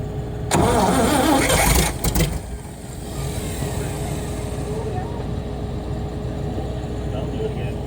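A Cockshutt 555 tractor engine cranks from cold, catches with a loud burst, then sputters and drops to a rough, steady idle, heard close with voices talking at points.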